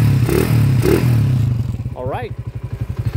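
A Honda TMX 125 Alpha motorcycle engine, converted to 200cc, runs nearby with a loud low chugging idle and mechanical clatter. A short spoken word cuts in midway, then the engine settles into a slower, pulsing putter.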